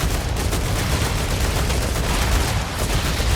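Rapid, dense gunfire from the player's weapon in the sci-fi game StarRupture, a continuous loud barrage with no pauses across the whole stretch.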